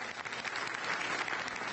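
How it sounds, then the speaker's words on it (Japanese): Audience at a final-episode viewing event in Kuji, Iwate, breaking into sustained applause, a dense steady wash of many hands clapping throughout. "最後におしまいの文字が出ると、大きな拍手が沸き起こっていました。"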